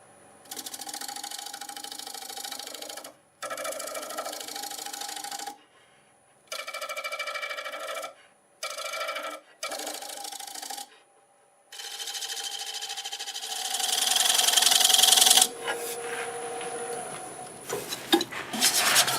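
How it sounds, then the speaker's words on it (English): Negative rake scraper working dry, hard box elder wood on a lathe: bursts of steady, close scraping hiss broken by short pauses, rising to a harsher, brighter rasp toward the end, with no talking. "I'll grab my negative brake scraper, put a nice burr on there, and we'll clean this up."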